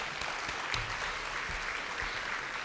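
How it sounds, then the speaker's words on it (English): Audience at a hospital leadership event giving a round of applause, a steady wash of clapping from many hands in a large room, moderately distant and unbroken. "Round of applause."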